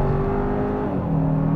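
A 2024 Hyundai Santa Fe SE accelerating, its engine drone loud and steady with a rising whir as it pulls away, heard from inside the cabin with no talking.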